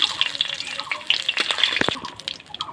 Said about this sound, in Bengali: জিরা আর তেজপাতা আর শুকনো লঙ্কা দিয়ে দিচ্ছি